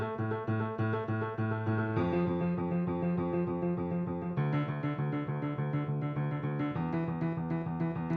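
A keyboard plays a left-hand rock pattern, a steady driving bass figure that repeats and shifts chord every couple of seconds. Close, full and continuous, with no talking.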